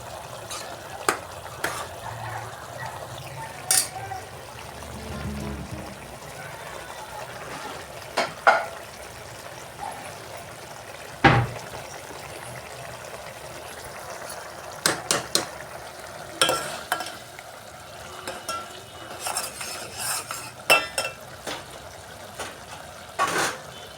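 A ladle stirs a cooked mixture of lentils, vegetables, turmeric and oil into a pot of bisi bele bath, with soft scraping and sporadic metallic knocks over a faint simmering hiss.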